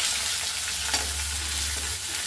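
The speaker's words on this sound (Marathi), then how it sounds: "फ्राय करायचं जास्त आपल्याला कांदा लालसर करून घ्यायचा नाही" Chopped onion frying in hot oil in a pan for tomato chutney, a steady close hiss and sizzle that carries on without pause, with no talking.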